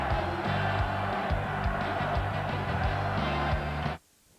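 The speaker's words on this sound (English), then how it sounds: "the crowd chanting Elway, Elway" Football crowd in Denver chanting "Elway" at a 1997 Wild Card game against Jacksonville, a broad, loud roar of massed voices with a steady rhythmic pulse that cuts off abruptly near the end.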